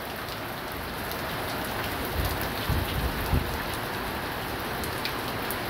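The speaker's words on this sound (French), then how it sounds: "un bon gros orage diluvien" Heavy thunderstorm rain pours down in a dense, continuous roar, with a few low rumbling thunder thumps rising briefly from the steady downpour.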